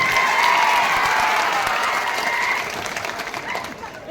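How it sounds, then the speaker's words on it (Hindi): A crowd at an open-air political rally in Khandbara claps loudly and steadily to welcome a young MP onto the stage, a dense sustained roar of applause that eases slightly toward the end. "इस मंच पे तालियों की गड़गड़ाहट से स्वागत होना चाहिए"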